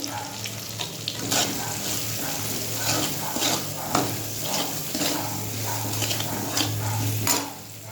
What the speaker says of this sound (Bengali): আর এই যে সর্ষে, কাঁচা লঙ্কা, টমেটো আর সাদা সর্ষে ভেজে নিই।